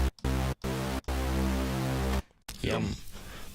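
A Serum synth saw wave pitched two octaves down with unison at 16 and tightened detune, played as a thick buzzing riddim bass: three short stabs, then one long sustained note, with a voice talking briefly near the end.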